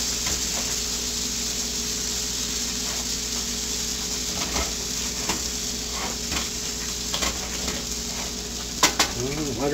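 Cattail bannock, made with half white flour and half cattail, sizzles and fries steadily in a pan, with occasional soft scrapes and clinks of a utensil and a faint murmur of voice.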